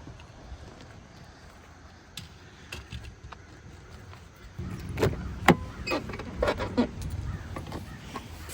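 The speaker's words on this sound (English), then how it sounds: "Did you hear that door? It needs some WD-40." A car door creaks and squeaks at a river gorge roadside, giving a few scattered short squeals and knocks over soft outdoor background that grows busier midway.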